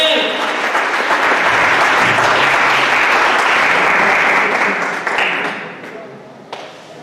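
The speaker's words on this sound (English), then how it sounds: "Come on, clap hands for yourself." A crowd at an Africa Day youth event in Thokoza claps loudly, a full sustained roar of applause that tapers off over the last couple of seconds, with voices mixed in.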